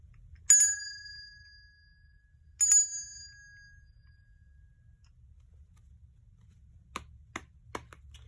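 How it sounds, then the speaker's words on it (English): A bright bell rings twice, each strike clear and lingering, followed later by a few soft clicks against near silence. "I'm going to ring my bell to clear the energy"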